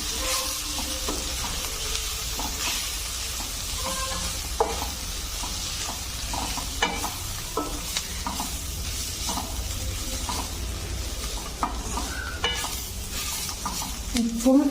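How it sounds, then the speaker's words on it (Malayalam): Masala with turmeric powder sautéed in a pan gives a continuous close sizzle broken by scraping spatula strokes, steady in level and heard alone without talk. "ഇവിടെ മസാലയൊക്കെ നന്നായിട്ട് വഴന്ന് വന്നിട്ടുണ്ട്"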